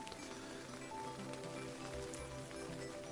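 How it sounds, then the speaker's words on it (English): Steady rain patters on a tent during a wet stop on a Scottish hill-walking crossing, a dense, even hiss with scattered drop hits continuing throughout with no voices. "while I wait for the rain to ease off."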